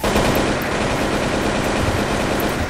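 Rapid gunfire from a shooting video game, a dense and continuous stream of loud automatic shots with no break across the whole stretch.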